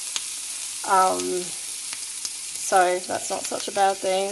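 Beef cheeks sear in a hot pan with a steady, close sizzle and crackle that runs throughout, while a person talks over it.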